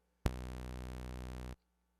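Sawtooth wave from a DIY synthesizer VCO shaped by a voltage-controlled amplifier envelope: a single buzzy, harmonically rich tone with a sharp attack that holds steady at a sustained level for over a second, then cuts off abruptly.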